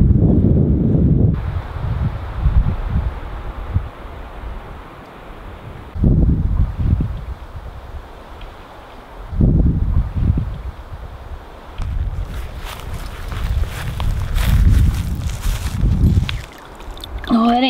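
Breezy wind by a lake at a remote wooded property, blowing in strong gusts against the microphone as rumbling bursts with softer rustling between, and a few rustling or handling sounds near the end.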